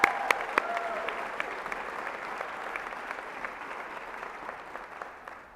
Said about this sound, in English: let's give the parents and families a round of applause